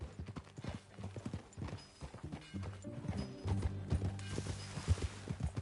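Horse hooves clip-clop at a steady walking rhythm in Red Dead Redemption 2, close and fairly loud, with a brief whinny-like sound and faint mechanical creaks mixed in.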